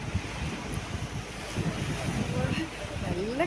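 Wind buffets the microphone aboard a houseboat at Alappuzha as a steady, rough rushing with low gusty thumps, and a voice speaks faintly underneath.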